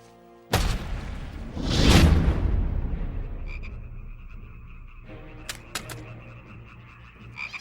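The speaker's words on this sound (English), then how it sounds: "And frogs came up out of the river and spread over the land" After a loud boom and a rushing whoosh, a steady chorus of frogs croaks in the background, with a few sharp clicks near the end.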